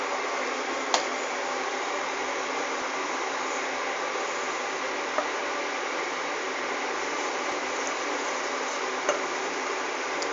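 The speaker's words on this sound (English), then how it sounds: "Sorry for that crackling noise, it's the kettle." An electric kettle heats water in a kitchen, giving a steady hissing rush with faint crackle and a few sharp ticks scattered through, continuous and moderately loud, without talk.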